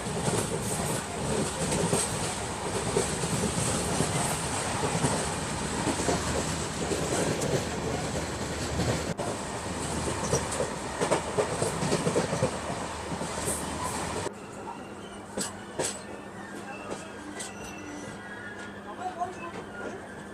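Passenger train running through Rajasthan, India, with a loud, steady rumble and rattle of wagons for about fourteen seconds before dropping to a quieter hum with scattered clicks and creaks as it slows.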